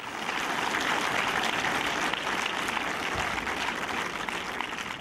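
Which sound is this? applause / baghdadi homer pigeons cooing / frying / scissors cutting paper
applause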